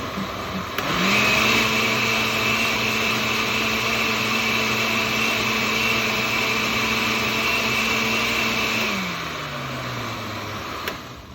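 A blender whirs steadily as it churns paper pulp for leaf casting, starting up abruptly, holding a strong even motor whine for about eight seconds, then winding down as the blades slow.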